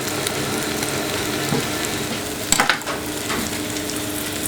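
Wild garlic sizzles hard in brown butter, a loud continuous close frying hiss that flares with a brief burst of crackling partway through, with no voices.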